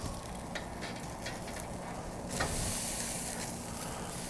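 Bone-in prime filet steaks searing over flame on a Slow 'N Sear travel kettle grill, a steady close hiss and sizzle with a sharp flare of crackle midway through, no talking.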